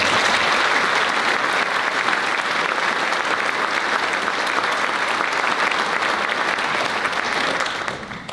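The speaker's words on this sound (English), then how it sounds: "I think he deserves another round of applause." Sustained, loud applause from a large audience at a high school graduation ceremony fills the space evenly, tapering off at the end.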